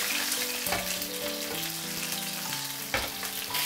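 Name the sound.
pan-frying meat skin over medium heat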